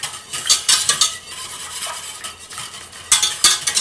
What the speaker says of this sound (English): by stirring frequently is you help reduce the temperature, especially concentrated temperature in one spot on the pot.